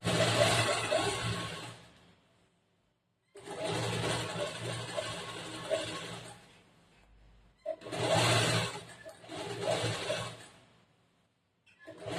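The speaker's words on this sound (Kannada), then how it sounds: "ಇಲ್ಲಿ ಒಂದು ಹೊಲಿಗೆ ಹಾಕ್ಬೇಕು" A sewing machine stitches a blouse with a back neck design, running in three steady, close whirring stretches separated by short pauses.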